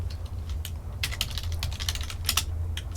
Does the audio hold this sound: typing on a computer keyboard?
yes